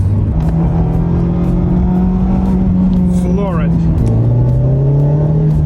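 A Formula 4 race car engine revs loud and close with rising and falling pitch sweeps, while a person briefly talks over it.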